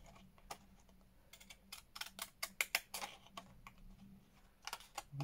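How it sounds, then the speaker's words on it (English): Scissors snip along the edge of journal paper in a run of quick, close, crisp cuts, some in tight clusters, with short pauses between them and no talking. "I'm going to use those scissors that I aimed to use a minute ago"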